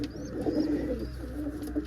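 Chinese pigeons, a cock paired with a black Chinese hen, coo softly and continuously in a low murmuring tone, close by with a faint background hum and no talking.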